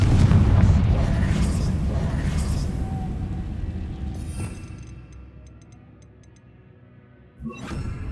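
A Confringo fire spell goes off in Hogwarts Legacy as a heavy, rumbling explosion. It slowly fades over several seconds into quiet, then a short sharp burst follows near the end.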